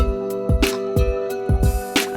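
A u-he Diva synthesizer patch in a looping beat: sustained tonal notes under a steady pattern of deep thumping hits and bright snappy accents, loud and clean with no voices.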